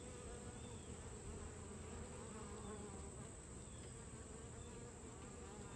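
Honeybees return to their hive in the early evening, their soft, steady buzzing droning continuously near the entrance with no talking.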